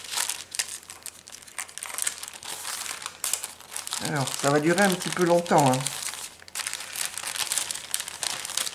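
Paper crinkles and rustles steadily as a scrapbooking craft haul is unwrapped close by, with a person talking briefly partway through.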